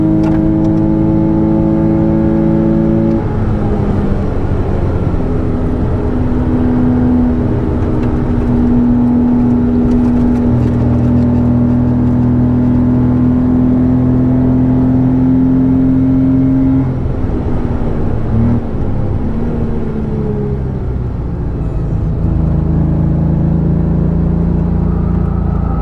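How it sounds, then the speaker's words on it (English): A Porsche engine revs hard and loudly for the whole stretch, its pitch climbing, holding and shifting in steady sustained tones, with no talking over it. "Doesn't that engine sound really good?"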